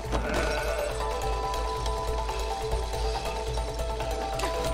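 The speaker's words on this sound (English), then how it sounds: "Sheep." A sheep bleating from an animal-sound puzzle in the video game It Takes Two, a wavering bleat over a steady, busy game soundtrack with no talking.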